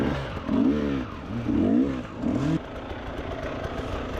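An enduro motorcycle engine revs hard in three rising bursts while the bike is worked over logs at a spring enduro cross-country race, then settles into a rougher, steady running drone.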